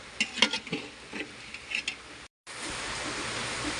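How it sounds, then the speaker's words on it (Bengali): Beef frying in ghee in a cooking pot gives irregular clinks and scrapes over a soft sizzle, then a brief dropout before a steadier, louder hiss of frying, close and without speech. "আমি ঘি দিয়ে মাংসগুলো একটু ভেজে নেব।"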